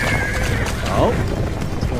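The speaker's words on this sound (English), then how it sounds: "That horse. Oh, look at that horse." Horse whinnying loudly in a Game of Thrones episode, a shrill neigh rising and falling mid-clip over hoof clip-clops and a busy scene mix, with people talking along with it.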